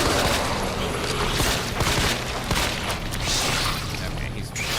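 Enemy gunfire in a Resident Evil game, a rapid, dense burst of shots under continuous game noise, moderately loud and fairly close.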